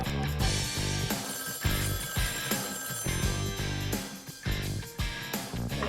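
A telephone bell rings loudly and repeatedly in quick pulses, close by and filling the room with a bright, harsh tone.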